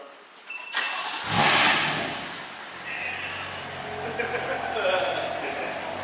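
A BMW F82 M4 engine with its CDV deleted cranks and catches with a loud burst, then settles into a rough, rumbling idle close by.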